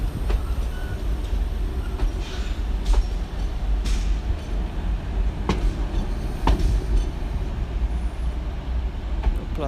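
Train wheels rolling over moving rails at Paris Gare de l'Est during rush hour, a steady low rumble with periodic clacks from wheels crossing rail joints, continuous and fairly close with no talk.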